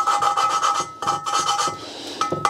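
A BMW M20 cylinder head valve is lapped into its seat with grinding paste, making a close, gritty back-and-forth rasping in quick rhythmic strokes with brief pauses.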